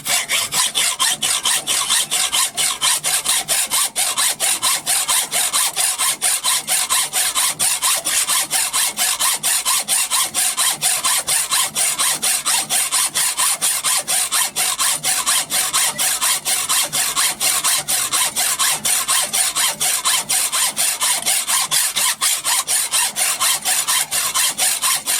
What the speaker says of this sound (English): So I've got a rather tired old hacksaw blade.